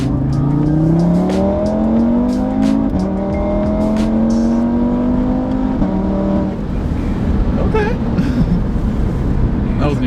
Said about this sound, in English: This thing is a stage 2 tune and has downpipes and all that stuff, so this is gonna be insane.